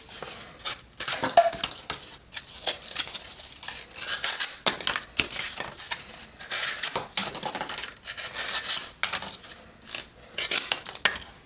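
A small Benchmade Full Immunity pocket knife with a full flat grind slices through cardboard in repeated scratchy, rasping strokes, close and fairly quiet, with brief pauses between cuts.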